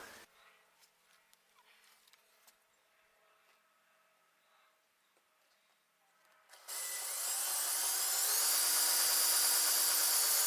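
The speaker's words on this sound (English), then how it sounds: "Now drill." A quiet stretch of faint handling noises gives way to a loud, sustained high-pitched power drill whine, drilling a hole in extruded aluminum framing, that continues to the end.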